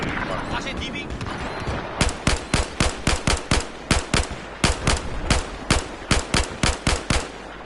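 Machine gun fire in the video game Battlefield 4 during hardcore play: a long run of sharp, regular bursts about every quarter second, loud and close, with muffled game sounds beneath.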